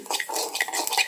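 Mustard seeds frying in a pan crackle and pop in quick, sharp bursts, close and fairly soft, with no voices over them.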